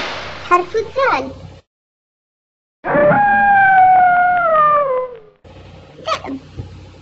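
A single wolf howl rises and then slowly falls in one sustained tone lasting a few seconds, set between short spoken words.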